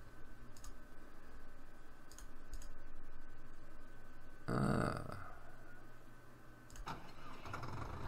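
A newly bought farm vehicle's engine starting in Farming Simulator 15, a brief loud crank and catch midway over a low steady hum, with a few faint clicks around it and no speech.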